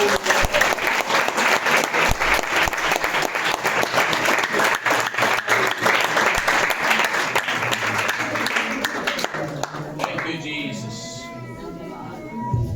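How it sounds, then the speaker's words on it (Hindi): A morning worship congregation in a church in Hoshiarpur, Punjab claps in loud, rhythmic unison, the sharp beats carrying on for about nine seconds before fading as a voice begins to speak. "सभी लोग ताली बजाकर प्रभु का नाम।"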